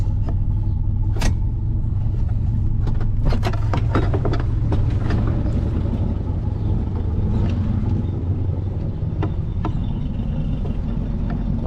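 A 1964 Pontiac Catalina barn find, long stored, rolls a few feet with a steady low engine rumble throughout, punctuated by sharp clicks and knocks near the start.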